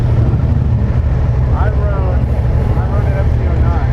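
A 2019 Suzuki SV650X motorcycle rolls out in first gear, giving a steady, close, low engine drone mixed with wind rush that holds evenly throughout.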